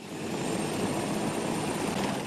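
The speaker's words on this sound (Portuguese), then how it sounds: "os helicópteros deixam o hangar em Belo Horizonte, com destino a Brumadinho" Helicopters leaving a hangar in Belo Horizonte at sunrise, a loud, steady rotor and engine roar that holds constant throughout with no talk.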